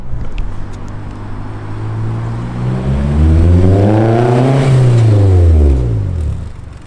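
A car engine revs up loudly with a deep, throaty exhaust, pitch climbing then falling away, close by and with no talking.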